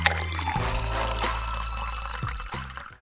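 Water pours and splashes continuously, close and full-bodied, with a few brief drips and bubbles, ending with a quick fade in a natural spring water advert.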